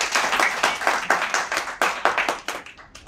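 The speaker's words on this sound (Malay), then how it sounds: "Tepuk tangan sekali lagi buat Mr. Justin." An audience at a detox camp seminar in Medan applauds a speaker, giving a burst of dense, rhythmic hand clapping that carries at an even, moderate level for a few seconds before tapering.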